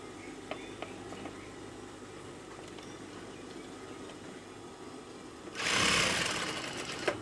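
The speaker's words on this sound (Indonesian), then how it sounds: "dijahit dari dalam di sini" Sewing machine stitching a pocket onto a woman's blouse, one short close burst near the end after a quiet stretch with soft handling noises.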